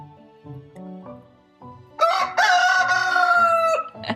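Rooster crowing loudly and close, a long drawn-out cock-a-doodle-doo following soft clucks and low hen-like calls, alone without talk.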